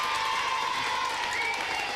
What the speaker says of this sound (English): I'd just like everyone here to give an applause to John.